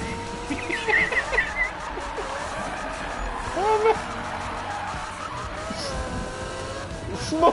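Racing video game with cars revving and tires squealing in skids, engine tones rising and falling as cars pass, heard under people talking in the room.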